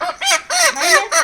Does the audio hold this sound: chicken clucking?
yes